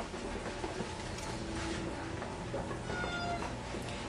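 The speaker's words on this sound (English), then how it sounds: "all 3 of these kittens are too small to be put up for adoption" Three small kittens at an open door animal shelter mew amid a busy mechanical background hum, their thin cries faint and intermittent against the steady noise.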